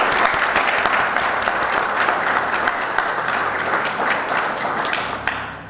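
Sustained audience applause at a state bar association's annual convention, a dense, steady wash of many hands clapping that fills the room and tapers slightly at the end.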